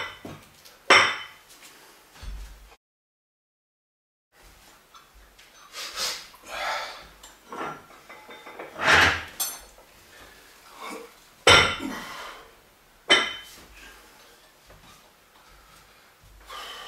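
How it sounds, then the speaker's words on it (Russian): Metal barbell weight plates clank and clink in a few sharp, scattered hits with quiet handling noises and breathing between them, close by. "Готовлю штангу."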